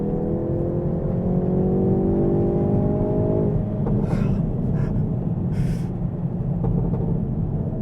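Hyundai i30 N hot hatch engine held in one gear at full power, a loud, steady drone climbing in pitch for several seconds before easing off, with brief hissy bursts from the boost and exhaust, close up with no talk.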